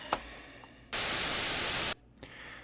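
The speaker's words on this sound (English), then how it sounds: "Let's see what the band reject filter sounds like when we've got some resonance in there." Synthesized sound in ChucK passed through a resonant band-reject filter: a single loud burst of hissing, static-like noise lasting about a second, starting and stopping abruptly against near silence.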